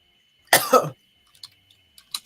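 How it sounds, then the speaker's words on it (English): A single harsh cough from a person with a cold, close and loud, in two quick bursts, followed by quiet with a few faint clicks. "I told you I got a cold, so excuse me anytime I cough."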